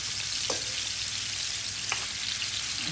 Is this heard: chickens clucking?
no